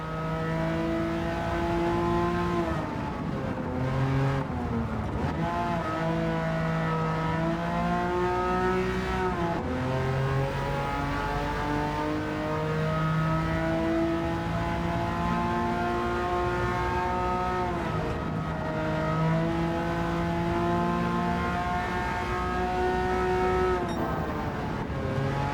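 A race car's engine heard onboard during a lap in the Gran Turismo 7 video game at the Goodwood Revival event, with a loud, continuous whine that rises through the gears, dips briefly on shifts and braking, and then climbs again.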